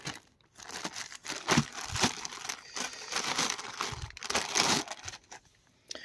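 Small plastic bag holding the cape of a Majin Buu Solid Edge Works Dragon Ball Z figurine being opened: steady close crinkling and crumpling of thin plastic with sharp rustling bursts throughout, no talking.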